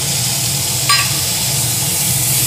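Tomato paste hits fried onions in a hot pan for mutton kasha, giving a continuous loud sizzle with a brief sharp flare as it goes in, and stirring underneath.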